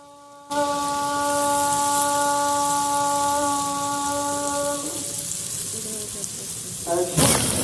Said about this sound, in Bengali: একই রকম ভাবে আমি সবগুলো পিঠে ভেজে নিব